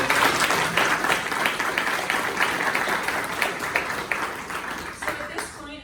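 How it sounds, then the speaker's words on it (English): An audience at a leaders luncheon breaks into a dense round of applause that gradually thins and fades toward the end, with some voices mixed in. "So let's give them all a round of applause"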